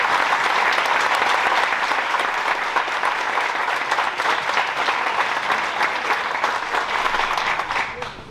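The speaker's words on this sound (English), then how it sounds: "Let's go ahead and give all of our honor grads one more round of applause." Loud, steady applause from an audience at a high school honor graduate ceremony, a dense wash of clapping holding evenly for several seconds before tapering off at the end.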